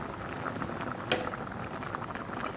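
Fish curry from a pond fish boiling in a pot, a soft continuous bubbling simmer with a single faint clink of utensil against metal partway through, no voices over it.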